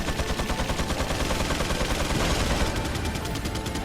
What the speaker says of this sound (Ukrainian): Так, знову щось вибухнуло.